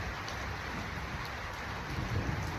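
Steady rain falls outdoors as an even, close hiss of drops with no pauses and no voices, holding at the same level throughout.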